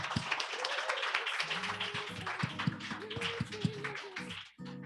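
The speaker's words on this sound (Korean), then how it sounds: "감사하다는 의미로 박수 치고 들여보낼게요." An audience at a church youth worship service claps and cheers. The dense applause runs continuously for about four and a half seconds, mixed with voices, then stops abruptly.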